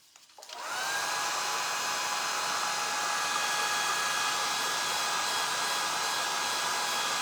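A hair dryer blows steadily on freshly shaped FormFlex compound pieces, switching on with a short rise and then holding a loud, even whirring roar close by, with no talking.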